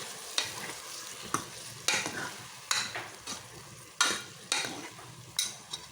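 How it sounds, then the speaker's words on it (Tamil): Radish sambar is stirred in a pan, with a ladle scraping in roughly seven rhythmic strokes over a faint steady sizzle, close and without talk. "நல்லா ஒன்று போல் நல்லா மிக்ஸ் பண்ணிக்கோங்க."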